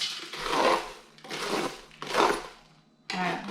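Hard, cooled homemade granola is knocked against the pan in four separate bursts of hollow clattering and crunching, close and moderately loud.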